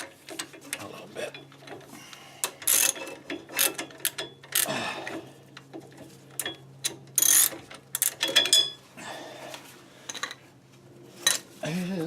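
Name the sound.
tightening bolts on a classic Ford Mustang rear axle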